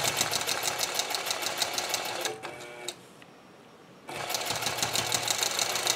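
A sewing machine quilting a crosshatch pattern along a ProLine ruler runs in a fast, even stitching rhythm, pauses for under two seconds, then starts again at the same pace; no voices.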